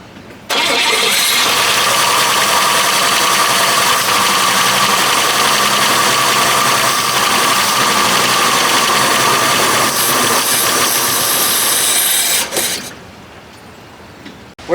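A 1966 Buick Special engine cranks and catches, then runs at a loud, steady idle close by for about twelve seconds before cutting off abruptly, with no talking over it.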